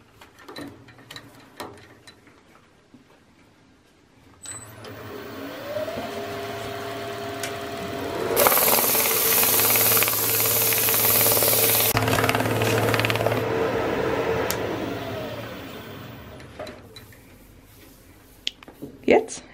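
Wooden ball spinning on a lathe in a homemade ball-turning jig, a steady loud whirring hum that rises into a broad rushing roar mid-clip, with lighter rattles before and after.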